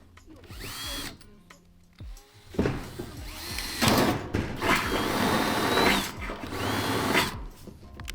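A power drill whines in repeated bursts, boring into wood for a DIY compost bin, with grinding, rising and falling runs between short pauses, close and loud.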